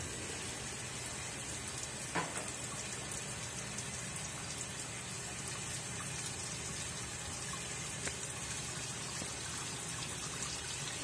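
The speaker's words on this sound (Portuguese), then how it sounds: "Já tem água no fundo da lavadora." Water steadily pouring into the drum of a Consul 13 kg Maxi Economia CWE13AB washing machine loaded with jeans, a continuous close, even splashing rush with no voices.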